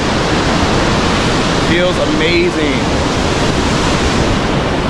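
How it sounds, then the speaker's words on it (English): Roaring broadband rush of Victoria Falls, the main falls with hot-weather mist shower, steady and loud throughout, with a short burst of excited speech partway through. "Behind me you can see the main falls."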